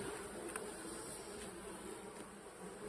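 Honeybees buzz continuously around an opened beehive, a dense steady hum of many insects close by with no speech.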